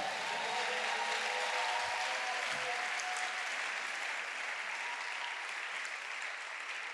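A church congregation claps loudly and continuously in a steady wash of applause that fades slightly toward the end, with a few faint voices underneath.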